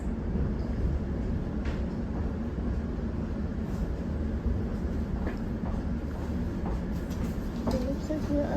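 Elizabeth line train running toward Heathrow Terminal 5, a steady low rumble and rolling drone from inside the carriage that lasts throughout, with faint voices in the background.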